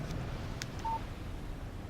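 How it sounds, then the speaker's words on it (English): A short single electronic text-message beep in the video game Alan Wake rings out faintly over steady wind-like background noise. "Text message from Barry."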